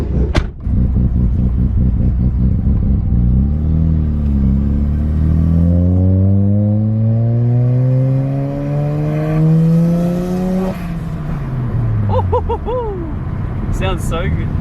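A car with electrical faults pulls away on a short cruise, its engine rumbling and rising in pitch through the gears, close and loud from inside the car, with a voice speaking over it.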